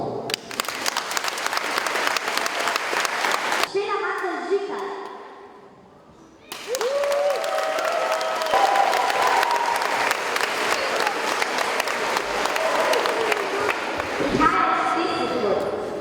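Loud applause from a school talent-show audience, dense clapping that dips briefly into a quieter gap with a voice and music, then surges back strong and sustained, with speech heard over it.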